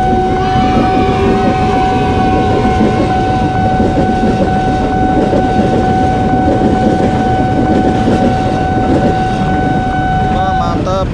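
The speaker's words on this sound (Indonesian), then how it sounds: "Wah, itu keretanya tuh." A KRL commuter train rolls past a level crossing, a loud continuous rumble of wheels and cars with a sustained crossing bell tone ringing above it throughout.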